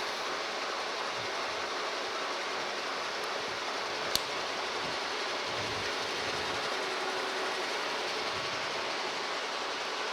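A horizontal milling machine cuts a bevel gear during a metal planer restoration, giving a steady, fairly loud broadband machining roar that holds for the whole stretch, with one sharp click partway through and no voices.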